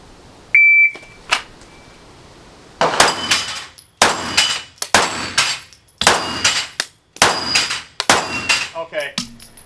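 Shot timer beep opens a handgun shooting drill at a range, a short tone followed by rapid strings of loud gunshots in quick bursts, with a brief voice near the end.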